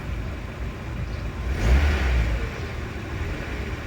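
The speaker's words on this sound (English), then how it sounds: "if I give it a rev, it's doing well" A Mazda MX-5 engine idles, then gives one quick rev that swells and falls back to a steady idle, moderately loud and near, with no talk.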